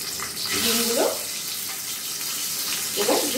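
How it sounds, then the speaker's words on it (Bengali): Salted boiled eggs dropped into hot oil in a wok, giving a steady sizzle and crackle with a couple of brief louder bursts as the eggs settle and are moved. "কড়াইতে তেল গরম করে সেই কড়াইয়ের মধ্যে ডিমগুলো ছেড়ে দিচ্ছি"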